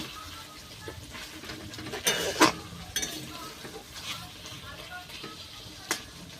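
Chicken masala cooking in oil, with the meat nearly browned, sizzles softly while a spoon stirs and scrapes the pan, with a few sharp clinks along the way and a voice talking over it.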